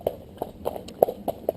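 Hooves of a cob, a steady easy-going horse, clip-clop as it trots, with six or seven crisp, evenly spaced beats ringing out close by and no talking.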